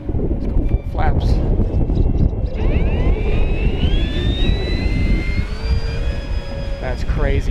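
An E-flite Draco 2.0 RC plane takes off with full flaps in wind, its electric motor whining up into rising tones over gusty wind noise, with people talking nearby.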